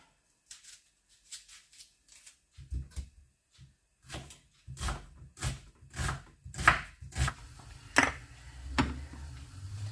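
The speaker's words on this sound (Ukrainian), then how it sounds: "І нарізаємо цибульку." A knife chops an onion steadily on a cutting board, a run of sharp, close knocks speeding into a quick rhythm, with no talking.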